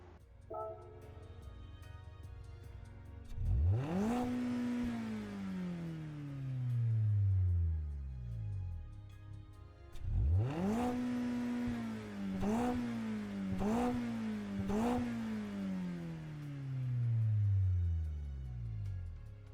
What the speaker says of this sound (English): So now on to the next car, which is the Mazda Spirit Racing Roadster 12R 2025.